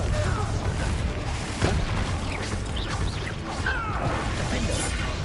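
Explosive Confringo spell fired during hard-difficulty combat in Hogwarts Legacy, a dense, continuous wash of crashing blasts and whooshing magic with one sharper boom near the middle, busy game effects filling the whole stretch.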